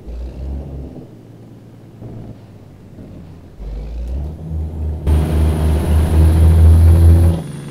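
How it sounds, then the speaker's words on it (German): A vehicle pulls away in American Truck Simulator, its engine rumbling low and then swelling into a loud, sustained revving drone before cutting off near the end. "Der fährt ab."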